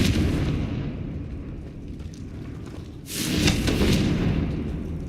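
A blasting Confringo spell in Hogwarts Legacy bursts with a loud, close rumbling explosion about midway, following a sustained low roar of magic and debris.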